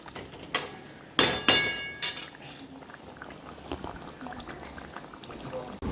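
An egg curry bubbles in a pot on a home stove after eggs are added to boiled potatoes, with a soft steady simmer broken by a few sharp clinks of utensils against the pot near the start.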